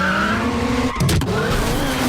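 A car brakes hard and skids during a chase scene in the action film Mission: Impossible – Rogue Nation, a sharp burst of tire noise cutting through a steady engine drone.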